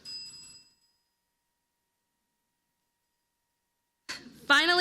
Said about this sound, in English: Several members of the audience have civility bells. These will be rung if the tone of the conversation becomes less than civil